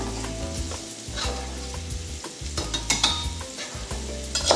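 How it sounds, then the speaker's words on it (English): Onions sizzle and fry in a pan while being stirred for vegan spaghetti primavera, a close, steady hiss with a repeated scraping rhythm of the utensil against the pan. "I love the sizzling sound of the pan"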